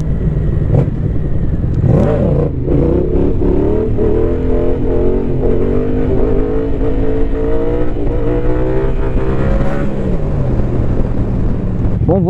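A Yamaha Tracer 700 motorcycle accelerates in second gear while held in a wheelie, its engine a loud, steady, close drone that climbs gradually in pitch, then briefly dips and recovers near the end.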